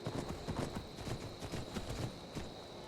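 A horse in modded Skyrim walks with a steady, quick clip-clop of hooves, a soft and fairly faint rhythmic patter lasting throughout.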